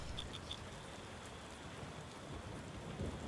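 Rain patters steadily in the tavern-management game Tavern Keeper, a constant soft hiss with faint low rumbles of thunder beneath it and no voices.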